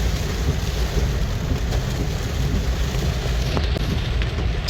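Loud, dense downpour from storm Basyang roaring steadily without pause over a flooded Philippine city, a constant broadband hiss of heavy rain striking surfaces close by.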